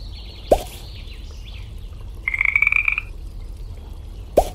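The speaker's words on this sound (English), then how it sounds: "There is also a frog in this. I will click on it and see what happens." A cartoon frog in the Molly of Denali canoe quest game croaks in a short, close rattling trill, set between two sharp, bright clicks and a quiet background, with no voices.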